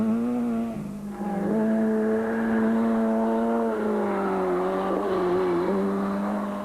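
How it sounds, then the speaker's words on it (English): A Castrol Toyota S2000 rally car drives a stage at the Tour Natal rally, its engine held at a loud, steady high rev with brief drops at gear changes, close and continuous throughout. "Serge Damso and Robert Paisley are up next in their S2000 Castrol Toyota"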